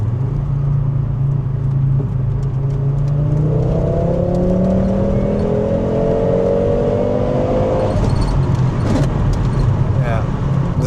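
A Volvo 850 GLT engine whines and revs as it shifts into third gear with reluctant synchros, the rising drone steady and close under someone talking.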